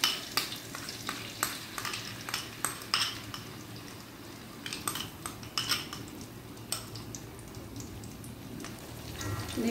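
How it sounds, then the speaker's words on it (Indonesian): Blended chili paste sautéed in oil in a pan, with a soft continuous sizzle and repeated clinks and scrapes of a utensil stirring against the pan throughout. "Tumis sampai wangi dan pecah minyak ya."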